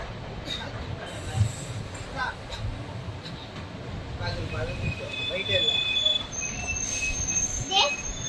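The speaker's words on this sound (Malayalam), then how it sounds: "നമ്മുടെ ഈ ട്രെയിൻ ഇപ്പോൾ 10:52 തന്നെ കോയമ്പത്തൂർ റെയിൽവേ സ്റ്റേഷനിലോട്ട് ഇത് എത്തിയിട്ടുണ്ട്." The Shoranur–Coimbatore passenger train rolls into Coimbatore railway station, its wheels rumbling steadily before shrill, sustained metallic squeals rise up near the end.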